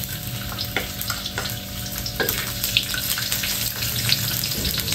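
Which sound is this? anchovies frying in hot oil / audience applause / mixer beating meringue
anchovies frying in hot oil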